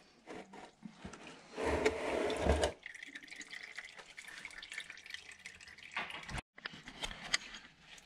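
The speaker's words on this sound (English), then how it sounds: "There we go, just a few drips left." Motor oil drips and trickles from a car's drain plug into a catch pan during an oil change, close and fairly faint, with a brief heavier pour and light handling noises.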